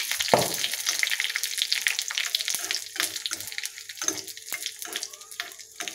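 Mustard seeds, a small dried red chilli and curry leaves crackle and sizzle in hot coconut oil for a Kadalai Paruppu chutney tempering, a steady close frying hiss with sharp pops scattered throughout.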